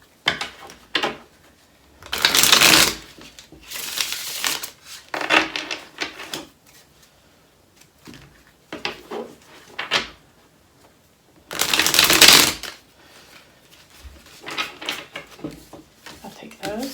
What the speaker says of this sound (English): I really want to shuffle these good.